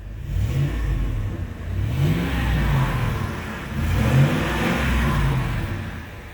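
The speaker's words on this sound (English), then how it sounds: "Rev her up a little bit." A 2000 Ford Expedition Custom with 87,000 miles and a lift kit revving its engine, two rising and falling throttle blips over a steady idle rumble, loud and close with no talk.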